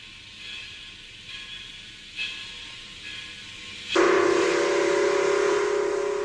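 Pennsylvania Railroad Decapod steam locomotive at Hollidaysburg Yard, with a few soft hisses and chuffs before a loud steady steam whistle or blowoff bursts in and holds to the end.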